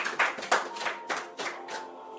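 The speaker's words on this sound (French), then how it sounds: "Applaudis pour nous." A congregation at a church service claps in several distinct bursts, close and uneven, each rising sharply then fading before the next.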